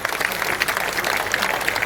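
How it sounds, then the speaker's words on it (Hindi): Dense, steady applause from the audience at a Hindi poetry conference, a continuous wash of many hands clapping together at fairly close range. "वो इतनी तालियों का नहीं, इससे और अधिक तालियों का हकदार है।"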